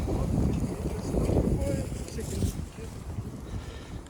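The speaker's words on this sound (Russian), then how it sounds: "Звук слышно, ветер." Fierce blizzard wind blows steadily in Irkutsk, a broad continuous roar with gusts rising and falling, heard close against a sheltered spot.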